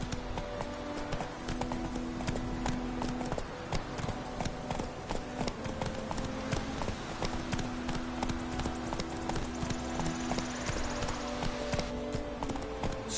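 Geralt's horse Roach gallops in The Witcher 3, a rapid, steady drum of hooves close by under a constant music bed.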